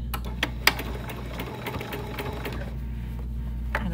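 A sewing machine stitches in the ditch along a fabric binding seam, running steadily up close with a continuous mechanical hum and rapid needle clatter, a few sharper clicks along the way, and no talking.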